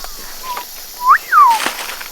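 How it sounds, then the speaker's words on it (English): Clear whistled calls of a dusky nightjar, a couple of rising and falling notes, fairly near, over a quiet nighttime outdoor background hum in Costa Rica. "the calls of a nocturnal bird called the dusky nightjars could be heard in the distance"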